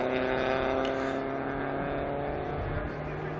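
A Group 4 Ford Escort 'droop snoot' race car in historic racing at Estoril screams hard through its gears, a loud, sustained engine howl close by with no voices over it.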